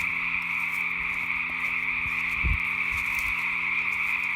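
Dense chorus of thousands of frogs heard on a hike on Mt. Burdell: a loud, continuous high-pitched croaking drone with steady pulsing, plus a few low thumps of nearby movement.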